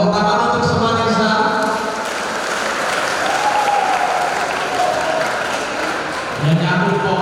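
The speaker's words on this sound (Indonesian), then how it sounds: "Tepuk tangan untuk Semanisa." A seated audience at a Ramadan gathering applauds for Semanisa: dense, sustained clapping that stays loud and close throughout, briefly dipping and then swelling again, with some voices mixed in.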